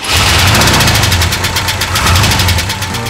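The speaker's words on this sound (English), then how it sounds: "So it has the original engine, although it's been rebuilt. It's an International Harvester 304." A rebuilt International Harvester 304 V8 engine runs steadily, a close, loud, rhythmic pulsing idle with a slight knock and no talking.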